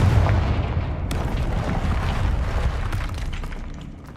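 Fiery Confringo spell blasts in the wizarding video game Hogwarts Legacy, a loud, rumbling explosive burst with crackling debris that slowly fades.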